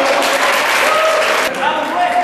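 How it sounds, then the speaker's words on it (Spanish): A loud round of applause from a group at an exchange gathering. It is close, dense clapping that holds strong and then dips slightly in its closing second, with faint tonal sounds and voices underneath. "Y ahora sí, fuerte aplauso para todos."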